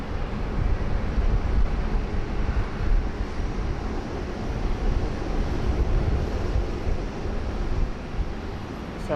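A plane taking off at Sydney Airport in heavy rain, a steady broad roar that holds loud and unbroken throughout, mixed with the dense wash of rainfall.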